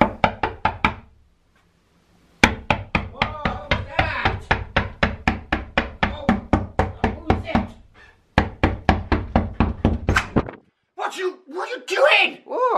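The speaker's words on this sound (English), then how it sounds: "I'm gonna just keep knocking on the door constantly until he comes to the door" Knuckles rap on a bedroom door in long runs of quick, loud, close knocks. They pause once and then resume, and a few vocal sounds come at the end.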